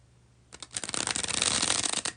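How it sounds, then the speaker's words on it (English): A deck of tarot cards is riffled in a bridge shuffle, a close, dense fluttering burst of card edges building over about a second and a half, with no talk. "Here is the second and last bridge shuffle."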